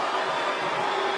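A canned clapping applause effect played on a podcast: steady, dense clapping filling the whole moment at moderate level, with no talk over it.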